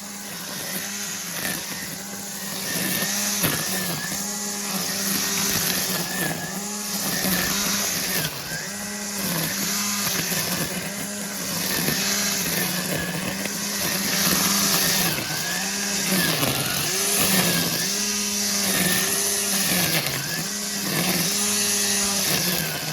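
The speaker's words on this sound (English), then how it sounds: "then the bridge cutter with Hedge Trimmer" A TITANTEC hedge trimmer runs steadily and loud, its motor buzzing with a rhythmic pulsing as the cutter works through a hedge, no voices over it.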